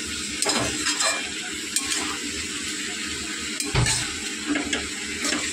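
Curry with turmeric is stirred one-handed in a frying pan on a home stove. Soft scraping strokes and a light sizzle run steadily underneath, with an occasional utensil clink against the pan, close and continuous, with no talking.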